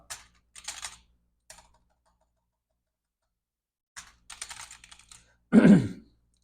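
Bursts of keystrokes on a computer keyboard, two short clusters of quick typing separated by a pause, ending in a louder thump, close and clear with no talking.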